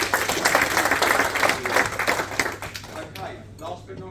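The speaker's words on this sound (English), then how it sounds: "So give him a round of applause." Audience applause and clapping fill a lounge event space, a dense steady patter of many hands that thins and tapers off toward the end, with some voices mixed in.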